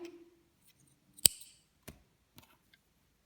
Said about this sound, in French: Là maintenant, on va couper notre fil.